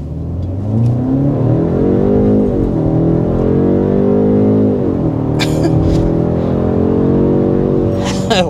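A 2024 BMW 530 sedan pulls away hard from a standstill in sport mode, its engine note climbing steadily through the gears with a shift-like dip midway, loud and close throughout.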